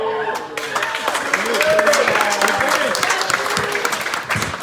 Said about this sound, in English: Now, hold your applause for a second.